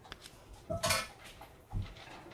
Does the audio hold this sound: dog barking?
no